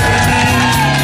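Studio audience on a morning TV show shouting and whooping for a rapper, a loud, dense burst of crowd cheering that fills the whole second.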